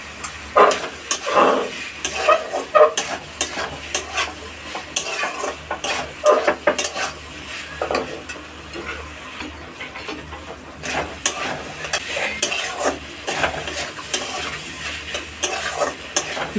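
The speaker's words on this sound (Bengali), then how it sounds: "ভালো মতো কষিয়ে নিয়েছি, দেখো কড়াইতে লেগে লেগে যাচ্ছে" Chicken and potatoes stir-fried in a wok, a continuous sizzle with repeated scraping and clattering of a spatula against the metal, the stirring coming in uneven bursts throughout, close and moderately loud.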